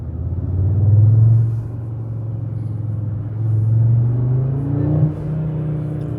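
An Audi RS3 engine gives a deep, loud, close rumble inside the car, rising in two swells and then dropping back at a gear shift, with no talking.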